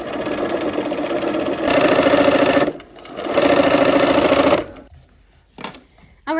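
A sewing machine runs two long, steady bursts stitching a seam, separated by a brief pause. The close motor whir is loud and even, then trails off into quiet handling noises.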